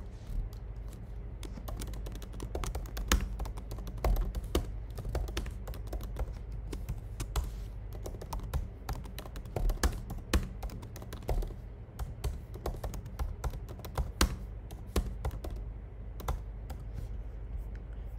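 Rapid, steady clatter of computer keyboard keys as code is typed, close and continuous with irregular bursts of keystrokes and no talking.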